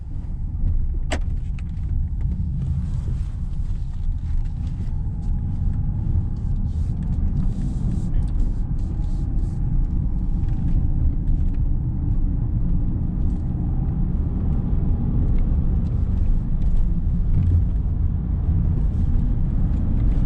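Land Rover Defender 90 driving on the road, heard from inside as a steady low engine and road rumble that holds constant throughout, with a brief click near the start.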